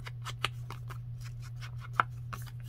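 Scissors snip through paper while making an envelope journal, a series of faint, irregular crisp cuts with a couple of sharper snips over a steady low hum.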